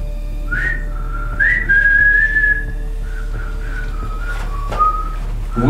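Someone attempts to whistle, producing a thin wavering tone that slides and breaks off in short phrases, close over a steady low hum.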